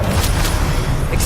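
A Confringo spell bursts in Hogwarts Legacy with a short, loud, deep boom, a rumbling blast with crackling texture lasting about a second.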